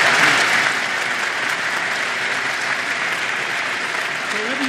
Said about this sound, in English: I might just give them a cadenced applause